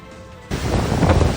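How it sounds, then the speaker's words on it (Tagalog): Strong wind and rain from Super Typhoon Nando in Santa Ana, Cagayan, break in suddenly as a loud, roaring gust that buffets the microphone after a brief quieter moment, with no voices. "Walang humpay ang malakas na buhos ng ulan at hanging dala ng Super Typhoon Nando sa Santa Ana, Cagayan."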